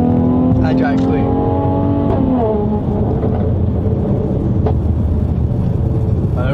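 A Mercedes-Benz AMG GT63 engine under way, a loud close droning hum with rising and falling tones as it pulls, heard steadily from inside the car with some speech over it.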